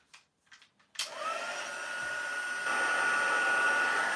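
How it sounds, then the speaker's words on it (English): An embossing heat tool blowing hot air to dry ink on a floral card project switches on after a few soft taps and runs as a steady, close whir, rising slightly in loudness partway through. "Now I can get this to dry simply by bringing my heat tool back in."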